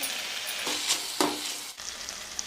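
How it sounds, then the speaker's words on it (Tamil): Mustard seeds, fennel, curry leaves and onion frying in oil for an egg curry, a bright crackling sizzle broken by a couple of sharp stirring scrapes, close up, dropping briefly before the hiss resumes. "கடுகு, சோம்பு, வேப்பிலை, வெங்காயம் வதக்கிட்டு"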